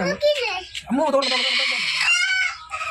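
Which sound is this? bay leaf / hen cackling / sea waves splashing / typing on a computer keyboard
hen cackling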